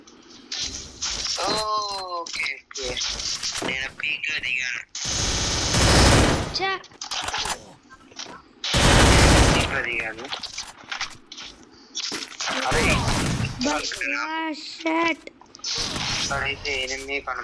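Loud bursts of shotgun fire in a mobile shooting game ring out in several heavy blasts, with excited voices chattering between and around the shots.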